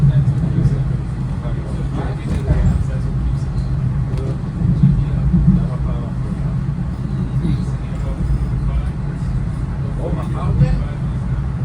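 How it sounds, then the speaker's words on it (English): A Siemens SC4 locomotive slows under dynamic electric braking on a Metro North run out of Grand Central, heard as a steady low rumble and drone from inside the train while people talk over it. "Just dynamic braking, electric braking."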